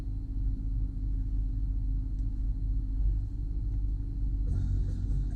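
A 2012 Jeep Grand Cherokee with a HEMI V8 idles rough with a cylinder 5 misfire, a steady low rumbling drone with an uneven pulse that runs continuously and fairly close, slightly rising near the end.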